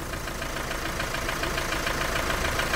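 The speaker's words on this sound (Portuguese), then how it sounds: "Escutando a batida do motor aí." Volkswagen Amarok pickup engine knocking, a steady rhythmic tapping over a close, continuous idle.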